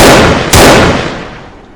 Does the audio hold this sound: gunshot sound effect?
yes